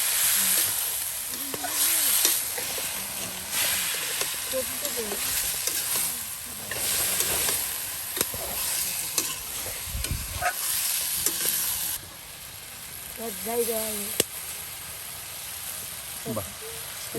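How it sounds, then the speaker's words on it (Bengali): Potatoes frying in a pan with dried fish masala over a village cooking fire, giving a bright hissing sizzle with intermittent stirring scrapes, while a person talks now and then over the cooking. "এই যে এখন আলুগুলো দিয়ে দেওয়া হলো আর এতে করেই কিন্তু একদম সব কিছু ভাজা ভাজা বা ভেজে নেওয়া হচ্ছে"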